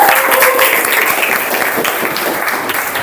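A classroom of students claps together in sustained, dense applause for the winners, loud and close, with no talk over it.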